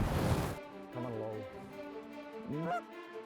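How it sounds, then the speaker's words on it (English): A single lone goose honking during a duck hunt on public land, a few nasal calls some distance off over a low outdoor background. "single lone goose to the right"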